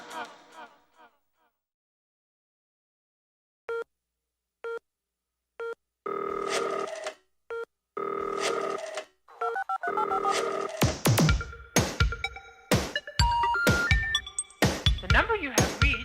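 Harmonic phone beeps and telephone tones from a track: sparse short beeps over silence, then longer sustained dial-tone chords, then a rhythmic electronic drum beat joins with clinking percussive hits.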